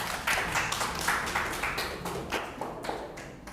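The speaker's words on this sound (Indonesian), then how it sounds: "Tepuk tangan untuk kelompok 2" Classroom applause for a student group in a Catholic religious education lesson: a short, fairly quiet burst of scattered hand claps from a small group, irregular and close.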